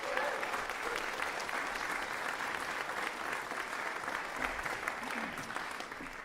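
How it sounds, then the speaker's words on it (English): An audience at a brass band festival's championship section gives warm, sustained applause, steady clapping that fills the hall throughout and tapers slightly at the end. "Please give him another round of applause."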